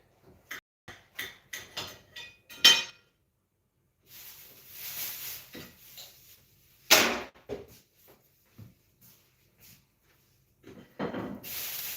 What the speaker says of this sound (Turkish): Bu arada ben de bulaşıklarımı yıkayayım. Makineyi tamamen doldurdum çünkü sığmayacak.